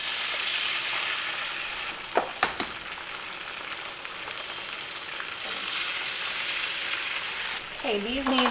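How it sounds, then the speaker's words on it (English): Four eggs frying in avocado oil in a pan, a steady broadband sizzle running the whole time with a couple of sharp clatters of utensils partway through and a brief voice near the end. "I'm gonna get 4 eggs on, get some avocado oil there."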